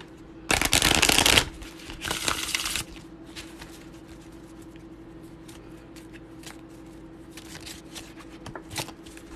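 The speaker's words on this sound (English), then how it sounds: "I'm going to shuffle if that sound bothers anybody" A deck of cards being shuffled at close range: one loud riffle burst, then a shorter second one, followed by quiet handling and soft clicks of cards being squared.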